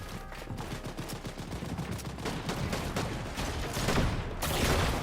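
Repeated shotgun blasts in Fortnite during a competitive FNCS match, loud dense bursts of gunfire in quick succession building toward the end, with no one talking.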